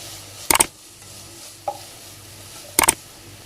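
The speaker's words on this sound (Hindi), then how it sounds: "चिकन को वेजिटेबल्स के साथ थोड़ा सा मिक्स करेंगे" Shredded chicken stirred with sautéed vegetables in a pan over a high flame, two bursts of scraping, clattering stirring strokes separated by a soft knock, with a faint sizzle underneath.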